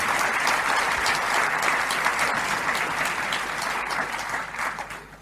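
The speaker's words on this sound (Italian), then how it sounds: "fatevi un applauso perché siete veramente straordinari" Conference audience at a Giza talk applauds steadily for about five seconds, a dense, even wash of many hands clapping that stays loud throughout before easing slightly at the end.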